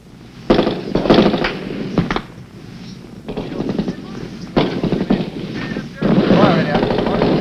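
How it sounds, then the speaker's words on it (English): Gunfire crackles through a jungle ambush in Vietnam, 1966: loud bursts of rifle and machine-gun shots come in clustered volleys with brief lulls between them, close and harsh. "Bullets rip through the leaves, and a Marine is hit."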